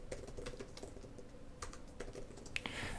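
Typing on a computer keyboard, a quick irregular patter of soft key clicks, close but quiet, with no voices.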